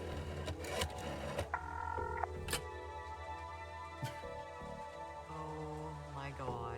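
Video game phone being dialed to call a taxi: a series of short electronic beeps and tones, some sustained and some clipped, clicking between them, over a steady background hum with occasional knocks.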